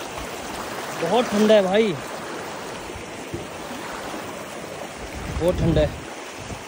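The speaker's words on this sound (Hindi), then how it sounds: "अभी हम लोग नदी क्रॉस करने वाले हैं धीरे धीरे। चलो चले, स्पीड तो है पानी का" River water rushes steadily around people crossing a river on foot, a continuous close flowing wash, with a voice speaking over it twice.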